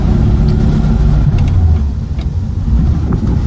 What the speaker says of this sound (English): We'll do a 360 of it running and show you what a Studebaker looks like.